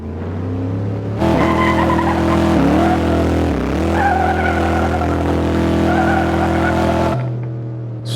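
Drag-racing car in Assetto Corsa revving hard off the line in first gear, a loud sustained engine roar with rising and dipping pitch through the launch, tire squeal mixed in, cutting off abruptly near the end.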